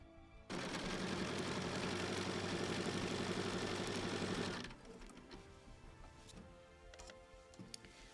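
A sewing machine runs steadily for about four seconds, stitching a locking spiral across a fuzzy faux chenille baby quilt with floral fabric, then stops, leaving a quieter room with faint background clatter.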